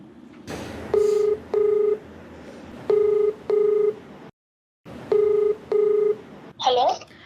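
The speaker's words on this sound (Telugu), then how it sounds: "నేను కాల్ చేస్తానండి" A phone call is dialed with keypad tones: paired beeps in short bursts, a brief silence, then two more, ending in a short ringing tone, clear and close.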